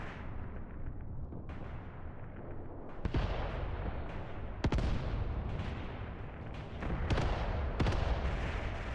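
Artillery fire mission in the WWII game Mius Front: a continuous rumble of distant explosions and gunfire, with sharper cracking blasts rising over the din at intervals, no voices.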